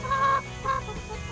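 Hens in a backyard homestead coop give a few short, close clucks in two bursts with a quieter gap between, with no talking over them.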